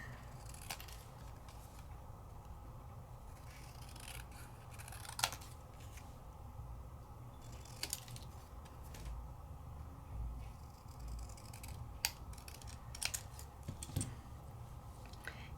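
Scissors snip paper while trimming a piece for a handmade card, a few faint, scattered cuts close by over a low steady room hum, with no talking.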